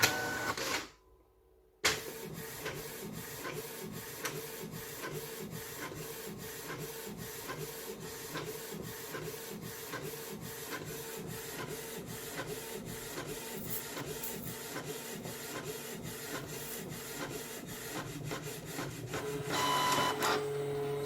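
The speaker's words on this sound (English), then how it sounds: "So here we are, our very first printout from our printer, scanner and wireless printer" A wireless all-in-one printer-scanner runs a color copy, a steady, close mechanical whir with a fast regular ticking rhythm that continues for about twenty seconds after a brief pause at the start.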